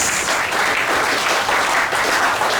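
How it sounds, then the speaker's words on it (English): A church congregation claps loudly and continuously, a dense, steady burst of applause with no talk over it. "Give a mighty clap for Jesus."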